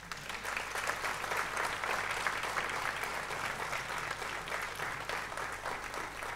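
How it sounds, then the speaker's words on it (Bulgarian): An audience applauds after a mixed choir's concert performance, with steady, dense clapping from a full hall that continues evenly throughout. "Да изпратим с аплодисменти смесен хор професор Венета Вичева"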